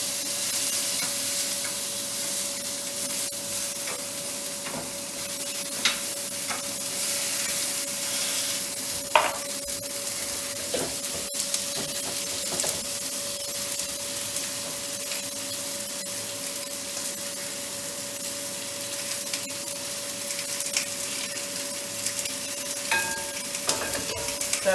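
Salmon fishcakes fry in a pan with a steady crackling sizzle, close and continuous, broken by occasional scrapes and clinks, under a faint constant hum with no talking.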